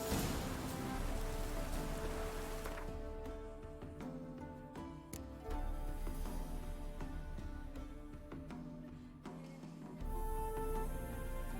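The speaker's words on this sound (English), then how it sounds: "Doing any work in this rain?" Steady rain falls in The Witcher 3 video game, a continuous hiss of downpour running under layered game music throughout, with no talk.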